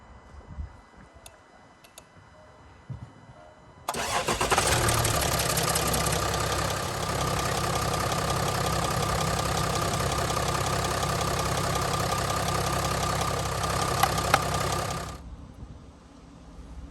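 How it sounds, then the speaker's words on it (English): A Range Rover TDV6 diesel engine cranks, catches after about four seconds and settles into a steady, loud idle for roughly eleven seconds before being shut off; faint clicks and handling noises come before the start. "So here is how to start the engine on your Range Rover."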